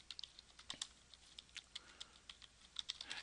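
Someone types a file name on a computer keyboard, producing a quiet, irregular patter of light key clicks in quick bursts, close and faint, with no speech.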